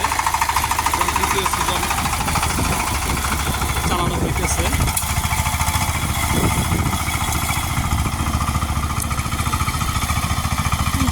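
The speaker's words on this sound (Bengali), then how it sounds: "এই পাওয়ার টিলারটি হলো সাইজিং আঠাশ ব্লেডের পাওয়ার টিলার" A Sifang 25 hp power tiller with 28 blades, used in rice fields, runs steadily nearby with a loud, rapid, pulsing diesel chug that continues without pause.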